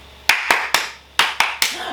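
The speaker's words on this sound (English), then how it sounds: "If you're happy and you know, clap your hands." Six sharp hand claps ring out in a loose rhythm, two pairs and singles, close and loud against near silence.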